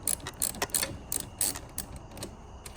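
Ratchet clicking in quick bursts while backing off the 10 mm nut on the negative battery terminal of a RAM 1500, a close, crisp metallic ratcheting with short pauses between strokes.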